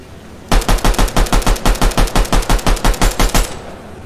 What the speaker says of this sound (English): Some kid's shooting me.